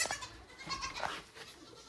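Baby goats on a farm bleating, several high, wavering cries overlapping close by, with a busy outdoor background.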